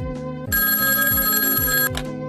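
A telephone rings with a bright, continuous electronic trill over a repeating low pulsing background tone, loud and close, with no speech.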